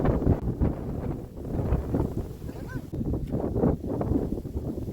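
Strong wind at a hilltop viewpoint on the road trip to Kodaikanal, buffeting the microphone in continuous low, rumbling gusts that rise and fall, with some voices faintly mixed underneath.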